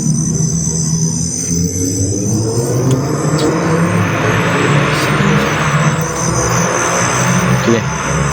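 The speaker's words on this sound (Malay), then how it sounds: "Ni sebab bising motor." Steady engine drone from a passing motorcycle, continuous and fairly loud over low rumbling, heard at night at a campsite by a hotel.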